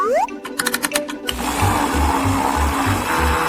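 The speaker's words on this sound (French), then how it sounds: "Je vais mixer le tout." Kitchen blender mixing vanilla ice cream with cheese: a brief rattle and a few short clunks, then the motor starts and whirs steadily with a pulsing low churn, loud and close, no talk.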